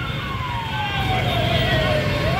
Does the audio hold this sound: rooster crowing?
no